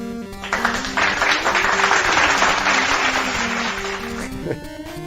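Recorded crowd applause plays as a sound effect during a live-streamed chat, a dense, steady wash of clapping lasting several seconds at even loudness, with a sustained musical tone underneath.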